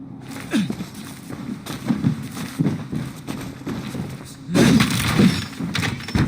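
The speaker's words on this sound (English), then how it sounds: "Basim, Eivor, to horse!" Horse hooves galloping in the video game Assassin's Creed Valhalla, a steady run of fairly soft thuds that grows louder toward the end under a layer of background game sound.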